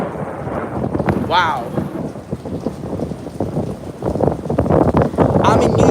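Severe thunderstorm at Rockaway Beach, New York City, with steady heavy rain and rumbling thunder filling the scene; a person exclaims briefly over the storm noise.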